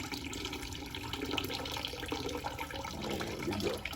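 Liquid drains steadily from a Carpigiani 1131 soft serve machine, a continuous watery trickle and gurgle running at an even level throughout, with no talking.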